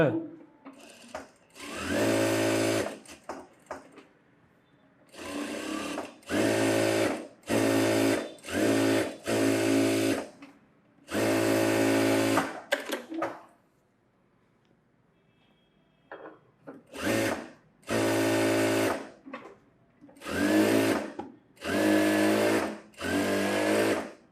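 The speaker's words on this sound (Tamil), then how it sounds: "இப்போ சுற்றி தையல் போட்டுருவோம்" A sewing machine stitches around a sleeve in a tailoring session, running in a dozen short bursts of steady whirring separated by brief pauses and a longer quiet gap, close and fairly loud, with no talk.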